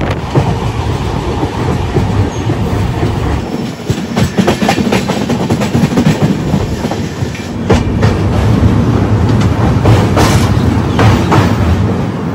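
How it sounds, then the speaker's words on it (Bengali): Saraighat Express on the Howrah–Guwahati line, nearing Kamakhya station, rolls along the rails with a loud, steady rumble and recurring clickety-clack wheel beats that swell again near the end, with no voices. "আর কিছুক্ষণের মধ্যেই ট্রেন ঢুকবে কামাখ্যা রেলওয়ে স্টেশন, তারপর আসবে গুয়াহাটি"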